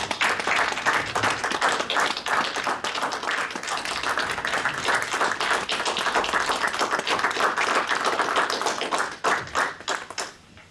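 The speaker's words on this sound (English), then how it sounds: "And if everybody could please join me in giving Dr. Weigel a round of applause for his" Audience at a city TIF and redevelopment board meeting applauds a departing board member, with steady, dense clapping lasting about nine seconds before tapering off into quiet.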